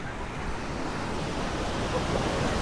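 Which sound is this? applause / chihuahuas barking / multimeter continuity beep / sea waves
sea waves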